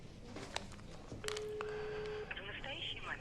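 Telephone keypad tones beep in a quick series, followed by a steady tone and then further electronic beeps on the line, all fairly quiet, with a voice speaking over part of it.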